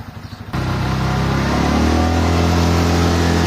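A Porsche roars in after a few soft thuds, its engine loud and close and holding a sustained, rising drone as it goes past.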